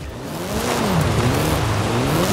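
A car engine in the video game Forza Horizon 5 drones and shifts in pitch as tires slip and scrub on the surface, loud and close, without any talking.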